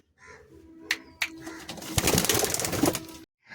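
A pair of Madrasi pigeons released from a loft in Bauria, Howrah, with a few sharp wing flaps followed by a dense burst of flapping and fluttering close by, then a sudden stop.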